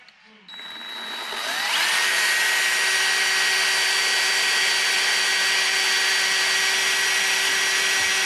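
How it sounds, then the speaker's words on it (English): A power drill whirs up to a steady high-pitched whine and holds it continuously, loud and close, after a brief quiet start, drilling a hole in the top center of an ostrich egg. "We're gonna drill a hole right in the top center of it."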